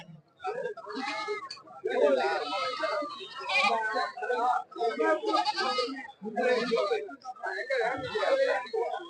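Goats bleat repeatedly nearby in wavering, voice-like calls, with people talking among the animals in a busy outdoor setting.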